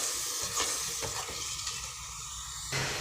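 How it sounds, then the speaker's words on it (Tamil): Tomato and masala sauté in a pan for a biryani side dish, a soft, steady sizzle with light stirring scrapes, fairly quiet and close, without talk. "அதையும் இதோட சேர்த்து மிக்ஸ் பண்ணிவிட்டு கொஞ்சம் இந்த மசாலாலாம் அந்த பச்சை வாசனை போகிற அளவுக்கு நம்ம வதக்கணும்."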